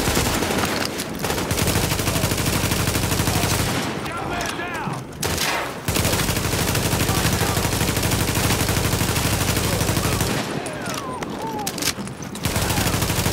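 Sustained covering gunfire in the shooter game Tom Clancy's The Division, dense and loud automatic bursts rattling almost without pause, broken by two brief lulls, with game voices faintly under the shooting.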